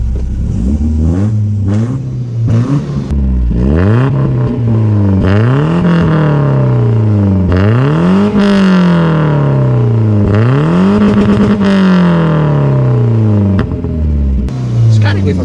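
A BMW E36 with its silencer removed and a straight-through exhaust, started up and revved repeatedly, loud and close, with engine pitch rising and falling in long sweeping pulls over nearby voices.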